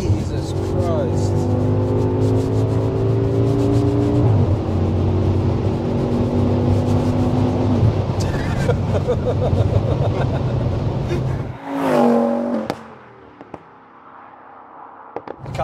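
A 1070 hp Audi RS6 four-door accelerates hard at speed, its engine note climbing in loud, rising sweeps heard from inside the cabin, then dropping away sharply near the end.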